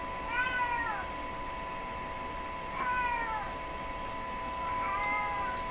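A black cat meows three times at spaced intervals, drawn-out descending cries heard fairly close over a steady electrical hum from a tube radio being aligned on the bench.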